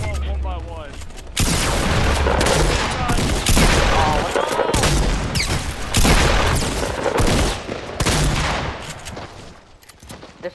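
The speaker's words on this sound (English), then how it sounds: "This heavy shotgun's some ass." Heavy shotgun blasts in the video game Fortnite come through as loud, dense volleys of gunfire mixed with booming impacts, continuing almost without pause over several seconds.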